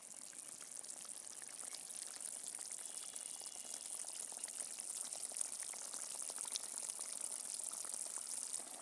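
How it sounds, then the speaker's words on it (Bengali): Fish curry gravy boils in a pot with a steady, faint bubbling and hiss that stays even throughout, with no talking. "বন্ধুরা, ঝোল ফুটে গেছে"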